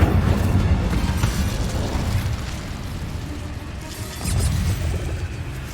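Casting the Incendio fire spell in Hogwarts Legacy gives a loud whooshing, roaring burst of flame that falls away and then flares again, heard inside a cave.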